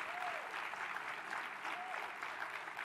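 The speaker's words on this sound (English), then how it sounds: "Can we give our panelists a round of applause," A conference audience applauds panelists after a panel discussion on the Common Core, a steady wash of clapping lasting throughout at moderate loudness, with faint voice traces underneath.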